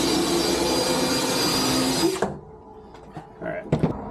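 Spinning nylon brush scrubs wax off a snowboard base with a steady loud whirr that cuts off abruptly, followed by faint handling knocks and light scraping.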